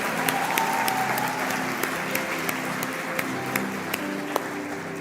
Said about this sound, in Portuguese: Vocês podem dar uma salva de palmas para eles?